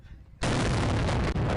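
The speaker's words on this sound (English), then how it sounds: "It's a fucking trash cannon." A homemade trash cannon fires with a sudden, loud broadband blast that starts sharply and roars steadily for over a second, close by and alone without talk.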